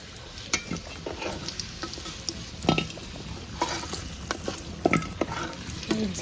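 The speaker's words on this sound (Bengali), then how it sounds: "এই যে আমার আলু ভাজা হয়ে গেছে," Potatoes fry in a pan on a clay stove while being stirred, so a soft sizzle runs under repeated scraping and clinking strokes of the spoon against the pan.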